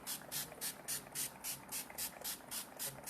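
Makeup setting spray is misted in about a dozen quick, evenly spaced bursts, each a short airy hiss close to the microphone, with no talking.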